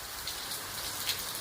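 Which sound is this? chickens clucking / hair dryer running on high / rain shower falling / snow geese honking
rain shower falling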